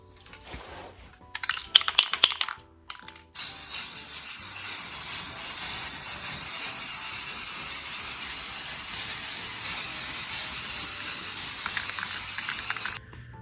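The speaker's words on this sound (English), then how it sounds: "I'm just gonna spray paint these" Short bursts of a spray paint can, then one long continuous hissing spray as furniture is painted a dark color, loud and close, ending abruptly.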